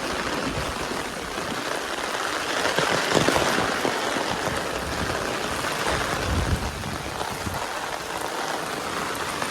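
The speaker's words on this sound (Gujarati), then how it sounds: "હજી તો વરસાદ સ્ટાર્ટ થયો છે" Heavy rain pours down in Keshod, a dense, continuous hiss and patter on surfaces with no pauses, loud and close throughout.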